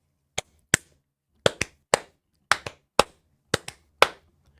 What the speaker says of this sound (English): Round of applause for Brandon for breaking it down.